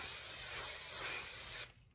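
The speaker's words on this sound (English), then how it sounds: "And before you go messing with it, you're going to have to spray it." Hairspray sprays onto fine hair in one continuous close hiss lasting over a second, then cuts off abruptly.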